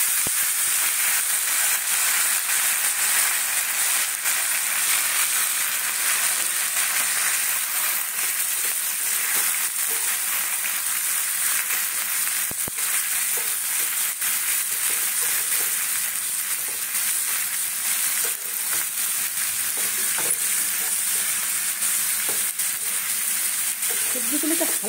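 Vegetables for fried rice sizzle steadily in a hot pan, a continuous bright frying hiss with occasional soft stirring scrapes, close and unbroken throughout with no talking.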